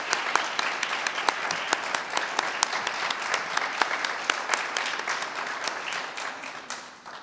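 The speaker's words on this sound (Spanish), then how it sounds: "Un aplauso para ellos." Dense, steady applause from an audience greeting poetry reciters at a poetic tribute to Manuel Benítez Carrasco, with a few sharper individual claps standing out before the clapping thins and fades near the end.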